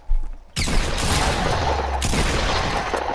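Gunfire in a Fortnite battle on a dance floor: a sharp shot near the start, then a dense, loud burst of firing and booming that continues without pause to the end.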